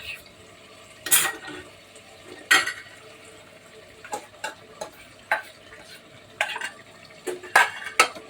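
A spoon stirs ground coconut and tomato into mutton kurma in a pan, with scattered scraping clinks against the metal and soft sizzling beneath, close and fairly quiet.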